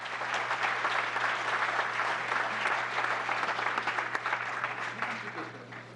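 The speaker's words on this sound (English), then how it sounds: "another big round of applause" Audience at a town council meeting applauding steadily for several seconds, a dense, even patter of many hands that tapers slightly at the end, with a low hum underneath.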